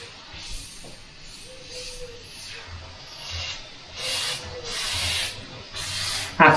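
A Badger airbrush sprays grainy paint in a steady, soft hiss of atomized air that swells louder in bursts toward the end, close and unaccompanied.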